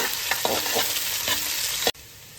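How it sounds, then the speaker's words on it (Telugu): Sliced onions with a bay leaf, cinnamon and cloves fry in hot oil for mutton rice, making a loud, close sizzle with stirring scrapes before the sound cuts off abruptly. "సన్నగా తరిగి పెట్టుకున్న ఉల్లిపాయలు వేసి వేగనివ్వాలి"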